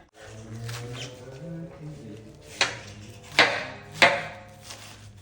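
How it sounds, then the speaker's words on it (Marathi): Spinach being finely chopped with a knife on a board: a soft rustling start followed by three distinct sharp chops, close and moderately loud, with no speech. "पालक आपण बारीक चिरून घेऊया"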